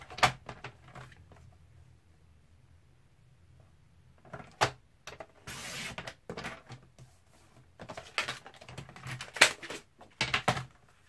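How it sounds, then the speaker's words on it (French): Scrap of craft paper cut to 12.5 cm for a summer scrapbook album, with crisp intermittent cutting and sliding strokes of a paper trimmer, bursts around the middle and end separated by quiet pauses. "j'ai une chute de papier que je vais couper à 12 et demi ici"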